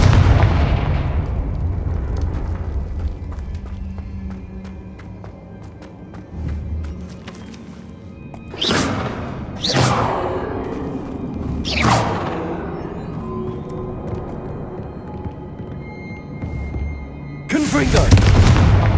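Confringo explosive spell blasts in Hogwarts Legacy, several sharp booming bursts at irregular intervals over a low rumbling game soundscape, with a final loud blast near the end.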